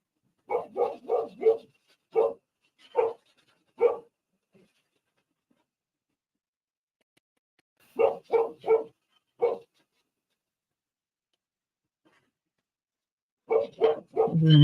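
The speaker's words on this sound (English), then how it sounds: "was my neighbor's dog" A neighbor's dog barks in short bursts of three or four clear, fairly close yaps, with long quiet gaps between the groups and a final flurry at the end.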